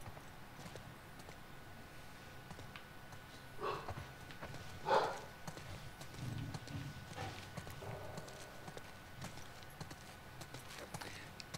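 Horse hooves clip-clopping in the video game The Last of Us Part II, an uneven run of light hoofbeats over low ambient rumble, with a few louder knocks midway and faint voices now and then.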